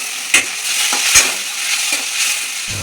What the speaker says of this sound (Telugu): నల్లేరు కాడలను పచ్చివాసన పోయేంత వరకు వేయించుకోవాలి